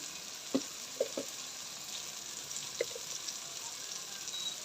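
Spice paste with tomato frying in a pan for a vegetarian potato curry, a soft steady sizzle with a few faint clicks of stirring, quiet and without talk.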